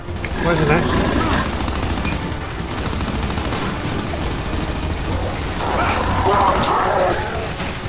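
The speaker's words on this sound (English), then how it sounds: "This retro lancer's got a lot of recoil on it." Retro Lancer rifle fire in the video game Gears 5, loud sustained bursts of automatic shots with heavy recoil, layered with game effects and mechanical clatter throughout.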